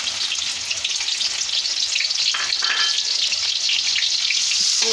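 Onions frying in two cups of hot ghee, a loud, dense, continuous sizzle close up with faint stirring beneath.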